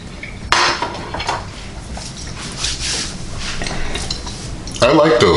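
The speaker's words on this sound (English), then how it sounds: "Just gonna take my fork and break another one." A fork scrapes and clinks against a plate, cutting through a buttermilk pancake cooked on a NuWave Primo grill. The clatter is close and busy, with brief, louder utensil knocks near the start and end.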